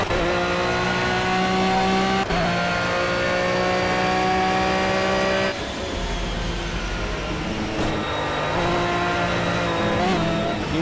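Aston Martin Vantage GT3 race car in a racing video game at Spa-Francorchamps, its engine droning loudly and steadily through upshifts with sharp pitch drops and rises, the roar continuous throughout.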